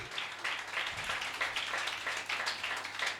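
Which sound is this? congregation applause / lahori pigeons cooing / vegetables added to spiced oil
congregation applause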